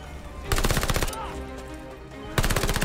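Automatic gunfire in the video game Call of Duty Vanguard on Xbox Series X: two loud, rapid bursts of shots separated by a brief quieter stretch.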